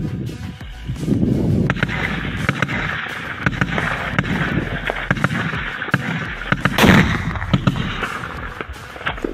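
Repeated sharp gunshot cracks ring out at irregular intervals over a rumbling outdoor background, with one louder, heavier blast partway through, during close-range combat in Bakhmut.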